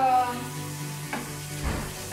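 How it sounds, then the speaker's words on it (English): Shrimp sizzles softly in a frying pan, a quiet, steady crackle with a couple of brief scraping stirs, under a faint background hum. "you can hear it sizzling. Not burning."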